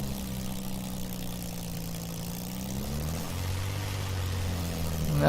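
A Spitfire L.F. Mk IXc piston engine runs in a flight simulator, a steady low droning hum that shifts pitch partway through and swells louder near the end, with no talking over it.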